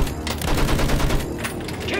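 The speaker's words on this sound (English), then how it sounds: "Use the MG, sweep the ground." Sustained machine gun fire from a World War I MG in Battlefield 1, a dense, unbroken stream of rapid shots with battlefield rumble beneath, loud and close for the whole stretch.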